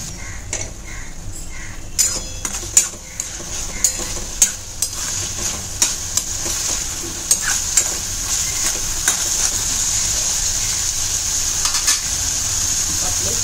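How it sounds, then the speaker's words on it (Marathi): Chopped tomatoes sauté in oil for prawns Malvani sukha, a continuous sizzle broken by repeated sharp clicks and scrapes of a spoon against the pan, gradually settling into a steadier hiss. "टोमॅटो, हे छान तेल सुटेपर्यंत आपल्याला परतून घ्यायचं आहे."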